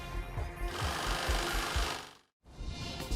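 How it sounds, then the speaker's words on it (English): Industrial sewing machine stitching and seaming sheets of recycled rubber inner tube into a weatherproof messenger bag, a steady dense mechanical rattle with rapid repeating thumps, briefly stopping near the end before resuming. "Workers sew, seam, and trim rubber sheets into a sturdy, stylish messenger bag"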